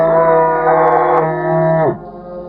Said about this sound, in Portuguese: eu ouvi outro grito agudo de vaca que estava vindo do milharal